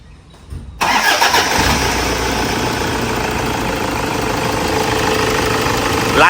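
Toyota Vigo pickup engine starting, a short cranking burst followed at once by a loud, steady idle that continues to the end.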